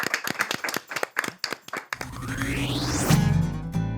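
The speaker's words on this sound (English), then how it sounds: "Give yourself a round of applause." A studio audience at a recording studio claps in scattered bursts, then breaks into fuller applause, close and moderately loud with no talk.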